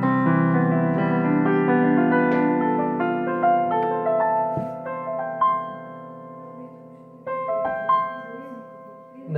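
Notes on a piano move in whole-tone steps across the keyboard, ringing out one after another with sustained, overlapping tones that slowly fade, with a few softer notes near the end.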